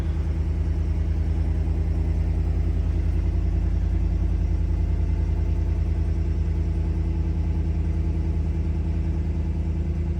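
Engine of a 2019 Chevrolet Silverado pickup truck running at a steady idle, a continuous low rumble close to the microphone with no talk.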